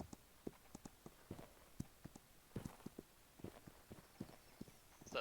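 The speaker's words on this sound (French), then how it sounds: "Pousse les chevaux, Kiri." Horses walk at a steady pace, hooves clip-clopping in an irregular run of sharp beats, moderately close and fairly faint, with no talking over them.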